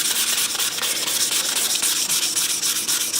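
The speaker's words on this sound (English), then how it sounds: "Now the rust has penetrated pretty good into the steel" Abrasive sanding scrapes rust from a vintage German fixed-blade knife in fast, rhythmic back-and-forth strokes, loud and close with no talking.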